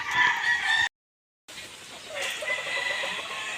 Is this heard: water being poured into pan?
no